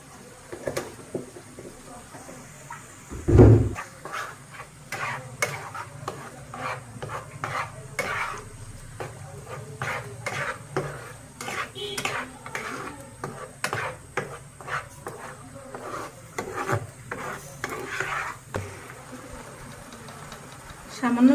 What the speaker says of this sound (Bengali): মাছটা আমি সরিষা তেল দিয়ে কষিয়ে নিব।